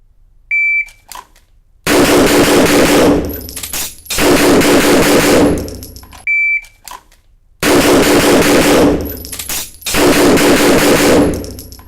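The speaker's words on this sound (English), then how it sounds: "I have to press the safety down or the gun doesn't go off" Gunfire at a practical shooting stage comes in two bursts of rapid, loud shots, each set off by a short electronic start-timer beep, with brief quiet gaps between them.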